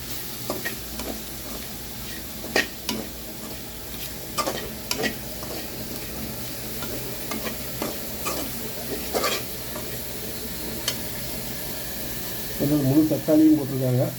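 A spoon stirs a spiced Tamil tamarind curry with pepper powder, coriander powder and curry masala in a pan, making soft scraping and a low steady sizzle with occasional sharper clinks, fairly quiet throughout.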